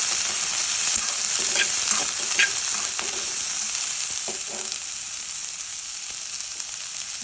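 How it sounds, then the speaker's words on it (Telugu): Oil sizzles steadily as food fries in a pan over a low flame on a stove, with scattered taps and scrapes of stirring, close and continuous without talk. "ఫ్లేమ్ మీదనే వేయించుకోండి, ఎందుకంటే అప్పుడే మంచిగా ఉంటుంది"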